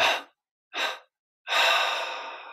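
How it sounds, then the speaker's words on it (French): Slow meditative breathing: one deep inhalation followed by exhalations, three distinct breath bursts with pauses between, the last long and gradually fading, close and clear with no talking. "on prend une inspiration profonde et avec 3 expirations"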